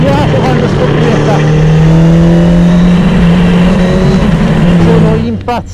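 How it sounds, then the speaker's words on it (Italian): A Suzuki GSX-R 750 restomod motorcycle engine runs with a loud, steady droning tone that holds and shifts slightly in pitch, then breaks into a brief ragged crackle at the very end. "Senti come scoppietta,"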